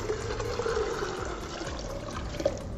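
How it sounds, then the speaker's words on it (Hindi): Water pours steadily into a pressure cooker pot of haleem with beef, a continuous close gushing and splashing for a few seconds, no voices. "और अब हम इसमें डालेंगे पानी हम 2 से 3 लीटर डाल देंगे इसमें।"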